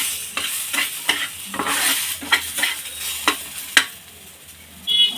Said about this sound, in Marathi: यामध्येच आपण हा बारीक चिरलेला टोमॅटोसुद्धा परतून घेणार आहोत